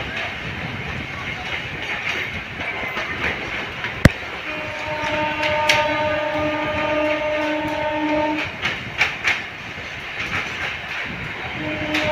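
Kolkata suburban train running through Park Circus station without stopping, a steady rumble with clickety-clack of wheels over rail joints, a sharp bang near the start and a sustained tonal whine in the middle.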